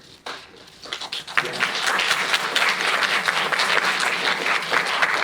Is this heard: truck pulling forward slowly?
no